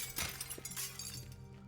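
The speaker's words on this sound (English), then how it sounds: "I'm gonna bust through this glass" Glass shatters in the video game Teardown, a sharp crash followed by scattered tinkling fragments over roughly a second and a half, with no talk.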